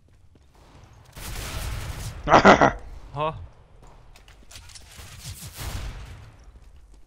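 Gunfire in Counter-Strike: Global Offensive: a loud cluster of rapid shots followed by a single shorter blast, with people talking before and after.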